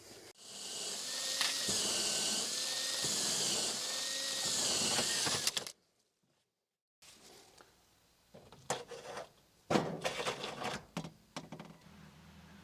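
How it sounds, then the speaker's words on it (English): A power drill whines steadily for several seconds while drilling a hole through a wall, then after a pause, bursts of grinding and scraping follow, close and fairly loud. "I'm going to drill a hole through the wall and get this mounted."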